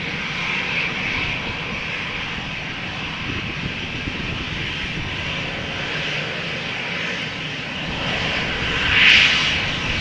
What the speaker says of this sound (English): There is another EasyJet Airbus coming this way.